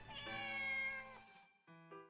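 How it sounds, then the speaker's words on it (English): A cat meows twice, a drawn-out, loud and close first call followed after a short gap by a shorter second one. "Okay, I think that one was a cat."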